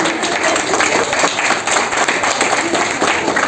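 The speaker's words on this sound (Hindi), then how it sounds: "अब खुशी की ताली बजाओ" Audience applause at a Shivjayanti spiritual gathering held in a grain market, a dense continuous crackle of many hands clapping together at steady loudness throughout.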